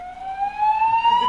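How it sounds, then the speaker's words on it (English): Building fire alarm sounding inside a conference hall: a loud steady electronic tone held without a break and slowly rising in pitch, with no voices over it. "The source of the alarm signal that you have heard is being investigated."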